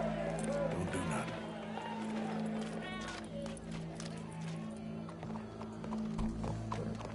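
Horse hooves clip-clop at a steady run in Red Dead Redemption 2, with a horse whinnying and a crowd murmuring behind game voices and music.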